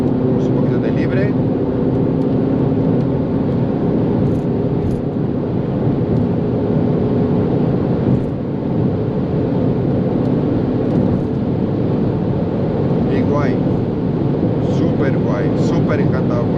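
A 2021 Audi TT 45 coupe accelerating hard on the German Autobahn with the pedal floored, a loud continuous engine and road drone heard from inside the cabin, with someone speaking over it.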